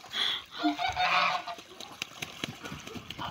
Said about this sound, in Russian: Посмотрите на белых гусей.